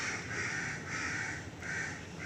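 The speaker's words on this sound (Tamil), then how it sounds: "காக்கா அந்த மரத்தில் கத்திச்சு" Crows cawing from a tree in a morning bird chorus, the harsh calls coming in repeated bursts with short gaps, fairly close and loud over steady outdoor background noise.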